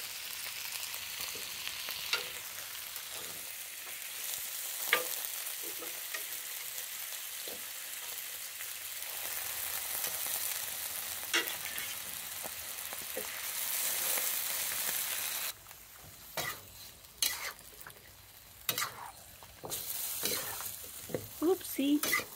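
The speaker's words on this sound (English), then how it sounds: "So we are just going to put this on the wok with the veggies on it." Boiled ham hock and vegetables stir-fry in a wok with a continuous sizzle. Scattered utensil scrapes and clacks grow busier and more broken toward the end as the food is tossed.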